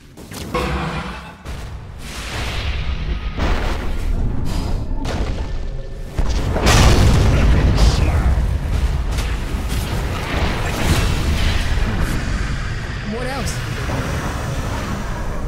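Dota 2 match with a Dire middle tower under attack and falling: heavy thuds and booming impacts roll on continuously, peaking in a dense burst near the middle, with game announcer voice and effects layered over busy battle noise.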